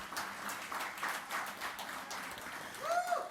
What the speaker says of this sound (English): Round of applause, yes.